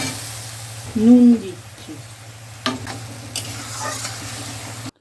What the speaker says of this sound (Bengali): সর্ষেটাকে ভালো করে কষে নিলাম।